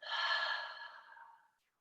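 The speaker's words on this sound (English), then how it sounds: "Take a full, big exhale out the mouth." A big exhale pushed out through the mouth during a yoga twist flow: one breathy, airy release that starts strong and fades over about a second and a half, heard alone and close.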